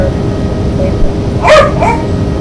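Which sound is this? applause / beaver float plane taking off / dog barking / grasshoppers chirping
dog barking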